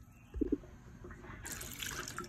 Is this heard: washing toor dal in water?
yes